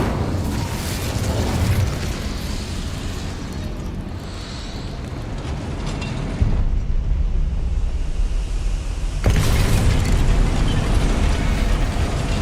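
An Incendio fire spell cast in Hogwarts Legacy gives a loud, roaring whoosh of flame with a sudden surge partway through, dense and continuous like a blast of burning air.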